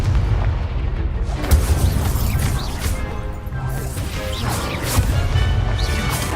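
Spell impacts in the Hogwarts Legacy video game crash and boom in a dense, continuous barrage of loud blasts and thwacks, layered with rumbling and clattering debris.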